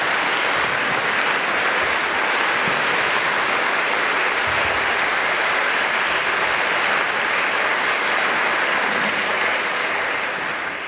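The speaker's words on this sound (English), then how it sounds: "A warm round of applause for Will Whitehorn." Loud, dense audience applause greeting a speaker at an evening event in Krakow, continuous clapping from a large crowd holding steady throughout and easing slightly at the end.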